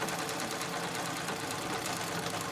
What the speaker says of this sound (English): if I'm careful as I'm doing the quilting, I'm not getting puckers